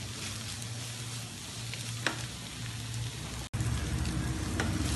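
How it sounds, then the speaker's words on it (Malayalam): Onions sautéing in a pan for a Kerala-style mutton curry give a steady, close sizzle, with a brief clink of stirring partway through. "ഇത് നന്നായിട്ട് നമുക്കൊന്ന് വഴറ്റിയെടുക്കാം."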